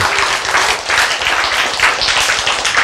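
Audience applause fills a lecture hall, a continuous dense patter of many hands clapping at even loudness throughout, with no voices over it.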